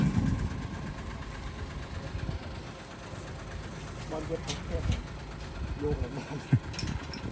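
A new combine harvester with twin air filters rumbles along at a low, steady diesel drone while turning on a narrow village road, someone speaking over it, with occasional clanks and knocks toward the end.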